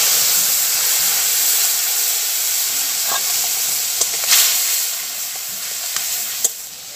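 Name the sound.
spice paste sizzling in hot oil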